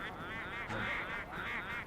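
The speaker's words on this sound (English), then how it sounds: "Here's some more quacking." Quacking duck in Luigi's Mansion, a pair of nasal honking calls over a muffled, noisy game background, fairly faint.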